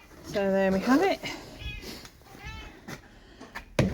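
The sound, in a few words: barn cats meowing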